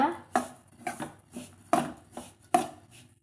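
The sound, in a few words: stirring roasting rice rava in a pan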